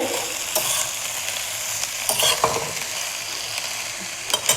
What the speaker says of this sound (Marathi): गॅस मोठा ठेवायचा आणि भाज्या पटापट फ्राय करायच्या